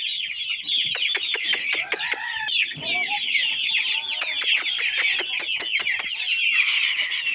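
Champion fighting roosters cluck and chatter in rapid, overlapping bursts, loud and close, with sharp repeated calls and a brief scratchy squawk, no talking.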